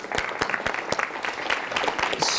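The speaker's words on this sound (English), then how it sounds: "give him a round of applause for that" Audience applause fills a vapor expo keynote hall, a dense run of claps from a sizable crowd, steady and fairly loud throughout.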